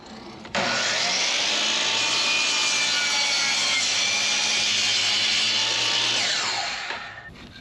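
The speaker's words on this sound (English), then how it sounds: "We've got our chop saw out and we're gonna grab our first board and get this side done" A chop saw cuts through a wooden fascia board, spinning up abruptly into a loud, sustained whine that holds steady for several seconds before winding down near the end.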